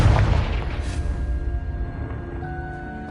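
A Confringo blast spell erupts in Hogwarts Legacy as a loud, dense booming burst that rolls on and slowly fades over a few seconds, with no voices over it.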